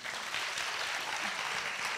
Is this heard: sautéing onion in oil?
no